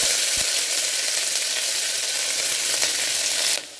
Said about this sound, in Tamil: இப்போ நம்மளோட வெங்காயம் நல்லா வதங்கி வந்துடுச்சு.